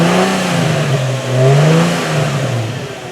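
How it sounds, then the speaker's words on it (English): The engine of a parked 2005 Infiniti G35 coupe is revved from idle, climbing in pitch and falling back in a couple of smooth, close, loud swells with no talk. "I'm going to rev it up just a little bit."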